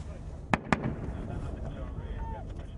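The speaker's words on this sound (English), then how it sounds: "Mortars land just yards away." Mortar rounds exploding during combat in Afghanistan: two sharp, heavy blasts land in quick succession, followed by a steady rumble of background noise.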